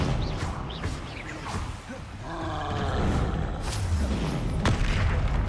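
Confringo blasting spell cast in Hogwarts Legacy, a deep booming roar with whooshing bursts and sharp cracking hits, loud and layered, swelling toward the end.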